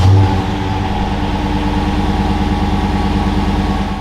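A 2021 Dodge fitted with a cold air intake revs loudly and steadily on a test drive, its deep engine drone and harmonic hum continuous throughout, with no voices.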